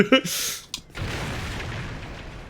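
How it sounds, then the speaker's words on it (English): A firebomb explodes in the video game Dark Souls II: a loud, sharp burst flares briefly, a second smaller pop follows, and then a long, noisy rumbling tail fades out. "the firebombs are a lot like the Half-Life 2... grenades, not Half-Life 2, the Half-Life grenades"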